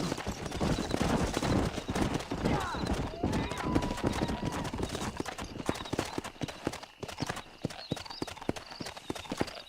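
Horses' hooves in a video game clip-clop rapidly and continuously at close range as several animals trot along, with a brief whinny, a voice speaking over them, and game sounds in the background.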